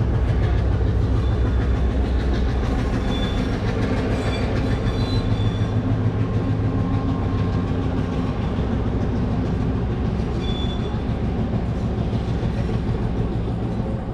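A train rolls steadily across the Nine Arch Bridge in Ella, with loud, continuous clickety-clack of wheels and a rumbling engine drone that stays close throughout.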